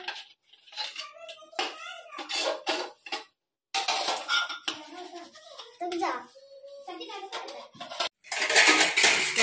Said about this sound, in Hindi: तो बर्तन सेट कर रही हूँ धुल के लाई हूँ।